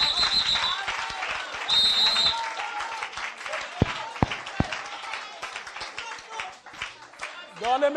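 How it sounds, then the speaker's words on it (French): A church congregation applauding during a jubilee service, scattered clapping mixed with voices and a few sharp loud claps, with talk running through much of it. "Ça mérite une acclamation."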